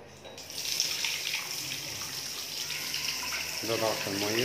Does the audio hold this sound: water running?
yes